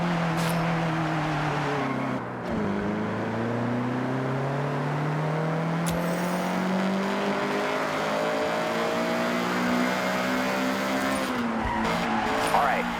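A CRX at full throttle in Forza Horizon 6, its engine note climbing through several rising gear pulls with brief dips at shifts, loud and close, with tire squeal mixed in.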